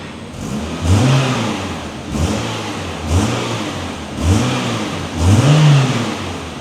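A Renault Clio Sport 182 engine revs up in five repeated blips, each rising and falling in pitch, with mostly intake noise and little exhaust note, close and loud with no talking.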